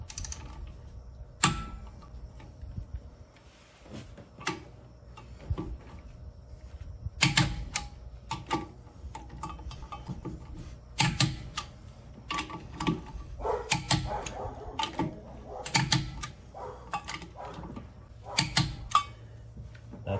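A torque wrench tightens trailer wheel lug nuts to 100 foot-pounds in a cross pattern, giving faint scattered clicks and sharp metallic snaps at uneven intervals.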